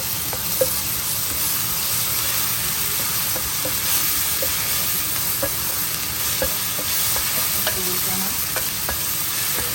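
Ginger and garlic sizzle loudly in a pan for shrimp with broccoli, a continuous close frying hiss broken by the light clicks and scrapes of steady stirring.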